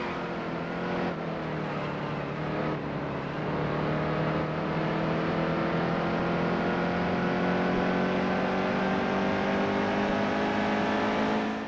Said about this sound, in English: I just cannot turn this truck through the center and off the corner